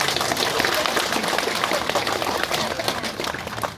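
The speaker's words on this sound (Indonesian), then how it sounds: "Tepuk tangan buat Bapak Haji." Clapping from an audience honouring a retired military officer at a formal gathering: dense, steady applause sustained throughout, loud and fairly close, with crowd noise mixed in.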